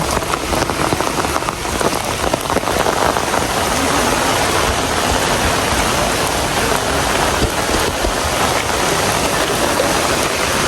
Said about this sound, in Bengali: ওরে প্রচুর বৃষ্টি, সব ভিজে ভিজে আসতেছে